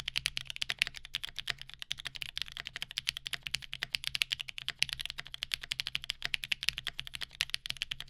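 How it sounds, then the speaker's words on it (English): Fast, steady mechanical keyboard typing on a Chimera65 with factory-lubed Red Jacket V1 switches and no dampening, crisp clacky keystrokes in a continuous stream, close and fairly quiet with no voices. "That is plate, PCB, chassis, and stock factory lubed Red Jacket V1 switches."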